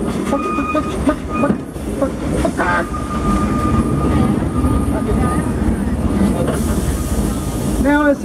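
An old train on the Frisco Silver Dollar Line at Silver Dollar City rumbles along the tracks with a steady clatter, a brief whistle-like tone, and metallic wheel squeals near the end.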